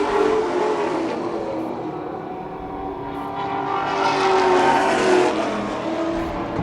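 Late model stock race cars roar steadily around a dirt oval, a loud sustained engine drone that swells and fades slightly as the pack passes.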